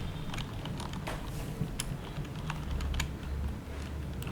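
Close, steady clatter of keys being typed on a computer keyboard, quick irregular taps with a few sharper strokes, over a low room hum with no talking.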